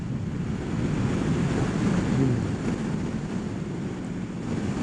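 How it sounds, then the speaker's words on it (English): Wind buffets a rider on a Kawasaki Ninja 1000SX sport-touring motorcycle, a steady loud roaring rush with low rumble that holds for the whole stretch, without speech. "the wind is just blowing really, really, really nice this morning"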